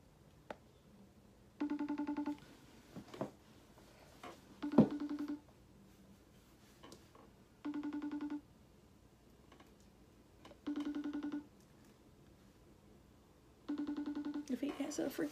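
A phone rings unanswered during a prank call, with five evenly spaced ring bursts over about fifteen seconds. The rings come through clearly, and faint background noise and a few soft sounds fall between them.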